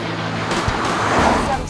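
A Chevrolet Camaro on 20-inch tyres brakes from 60 mph into a long left-hand bend, its engine and road roar steady and close, with someone speaking over it.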